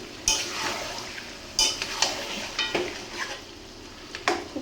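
Home-bought desi rooster pieces being stir-fried with spices in a pan, with repeated scraping and stirring strokes over a low, steady sizzle, close and moderately loud, no talking.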